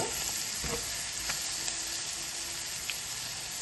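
Spices and onions are stirred into frying fish biryani masala in a pan. A close, continuous sizzle carries a few soft scraping strokes from the spoon, with no speech.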